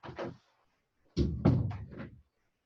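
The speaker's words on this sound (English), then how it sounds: "let me just close the door" An indoor door is pushed shut in a room, giving a short thump followed by a cluster of knocking bumps and a closing thud, close to the microphone and with no talk over it.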